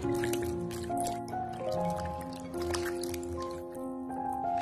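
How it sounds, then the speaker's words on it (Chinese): Green peppers being rubbed and rinsed by hand in a basin of clean water, giving soft wet squishing and dripping sounds that run steadily throughout, with background music and faint voices underneath. "再换上干净的清水，再次简单的抓洗一下就可以"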